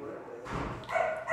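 A dog barks in short, fairly loud bursts nearby, with a busy background of people around it.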